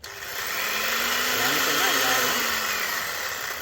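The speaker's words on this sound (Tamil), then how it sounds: "இந்த எக்யூப்மெண்ட்ஸு இதுதான் பவர் ஆக்ஸா இது பவரில் க ஒர்க் ஆகுறது" An electric power saw cuts garden plants during green waste work in Brisbane, Australia, giving a steady whining motor drone with shifting pitch throughout, close and continuous.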